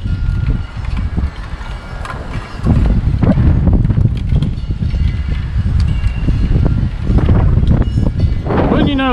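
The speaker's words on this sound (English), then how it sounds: "the wind would be blowing like crazy" Wind blows hard at an outdoor camp, a steady rough rumbling buffet across the whole stretch with brief gusty swells, close and loud.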